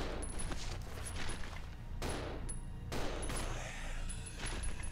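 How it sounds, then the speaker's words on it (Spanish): Gunfire from the GameCube version of Resident Evil Zero, a dense fusillade of shots fired in rapid bursts with sharp cracks standing out, loud and continuous throughout. "¡Disparo de Billy!"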